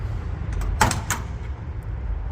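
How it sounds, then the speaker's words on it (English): A classic car door shuts with a quick cluster of metallic clunks and latch clicks near the middle, set against a low rumbling background at an auction event. "Wait till you hear all the door sounds opening and closing."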